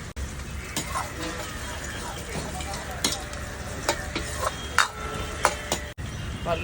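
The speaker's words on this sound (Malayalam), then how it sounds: "അരിഞ്ഞു വെച്ചുള്ള സവോള, ഒരു 2 പച്ചമുളക് എടുത്തിട്ടുണ്ട്. അപ്പൊ ഇതൊന്നും അങ്ങോട്ട് ജസ്റ്റ് വഴറ്റി കൊടുക്കാം കേട്ടോ." Sliced onion and green chillies sautéing in coconut oil in a pan: steady close sizzling with intermittent stirring scrapes and utensil clinks throughout.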